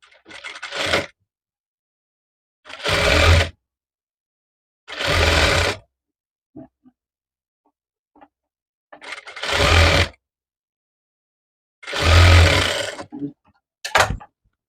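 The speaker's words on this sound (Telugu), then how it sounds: "సో ఒకటైతే స్టిచ్ చేస్తున్నాను." A sewing machine stitches the side seams of a prince cut blouse in five short bursts of rapid, close mechanical whirring. Brief silences fall between the bursts, and a final quick stutter comes at the end.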